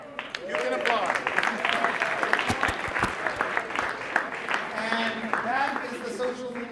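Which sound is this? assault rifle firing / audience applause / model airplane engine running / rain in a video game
audience applause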